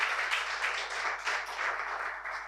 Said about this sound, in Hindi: एक बार कस के ताली बजा के आप लोग स्वागत कीजिए